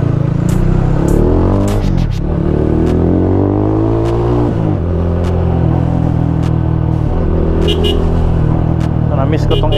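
A Rusi motorcycle rides through slow EDSA traffic in Metro Manila. Its engine drones loudly and steadily throughout, with rising and falling revs and surrounding road rumble close by.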